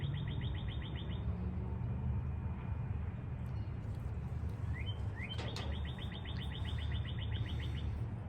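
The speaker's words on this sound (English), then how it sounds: "I love listening to the birds." Repeated rapid trilling birdsong outdoors, bursts of high chirps separated by a pause, over a steady low background hum.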